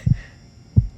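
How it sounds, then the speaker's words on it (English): Heartbeat sound from the video game Heart Beaten: a loud, close, low double thump followed by a single thump, muffled and alone. "the theme that year was heartbeat, or the sound of a heartbeat"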